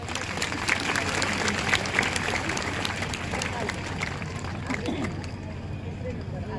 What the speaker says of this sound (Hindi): एक बार और ताली बजाओ।